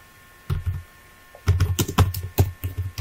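Fingers typing on a computer keyboard while entering a field name in ArchiCAD 24: a short tap, a pause, then a quick, close run of clicky keystrokes in uneven bursts.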